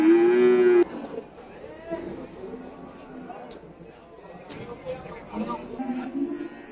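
Simmental and Limousin cattle at the Randudongkal cattle market, one loud close moo opening, then crowd chatter and market noise with fainter lowing from other animals later on.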